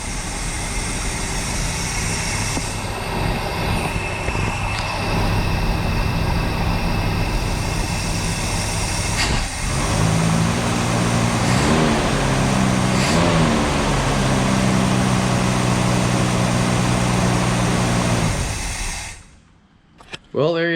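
A 1965 Lincoln Continental convertible, a broken barn find, runs steadily with a loud, continuous engine drone and hiss, revving briefly midway before cutting off near the end.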